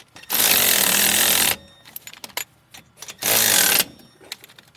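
Power tool snugging the wheel bearing bolts on a Ford Ranger: two loud, sustained buzzing runs, the first about a second long and the second shorter, with clinks and rattles between them and no talk.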